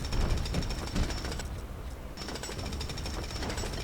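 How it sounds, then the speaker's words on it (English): A jackhammer in the Lego City Undercover video game hammers in rapid, loud, continuous bursts, pausing briefly midway before pounding on again, with no talking. "Because now we have the jackhammer."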